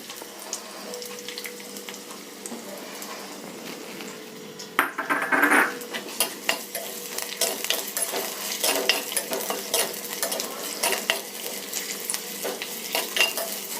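Five finely chopped small onions sauté in a pan for a manathakkali greens dish, with a soft steady sizzle and, from about five seconds on, repeated clinks and scrapes of stirring; no one speaks.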